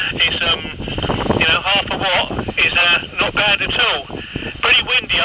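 Wind buffeting a handheld PMR446 radio microphone on a windy hilltop, heard as continuous rushing and rumble throughout, with a person talking over it the whole time.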